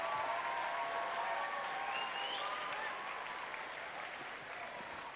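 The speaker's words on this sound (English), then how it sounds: "let's have a round of applause for Neighbour Alice, because she's a great crack." Audience applause for a guest at a live talk show event, a steady wash of clapping that stays even and moderately distant, fading slightly toward the end, with no voices over it.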